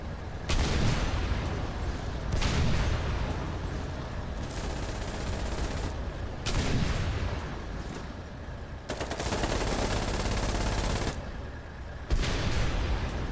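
Sustained machine-gun and heavy gunfire in a tank combat video game, loud continuous bursts separated by brief pauses, with booming artillery-like impacts mixed in and no voices.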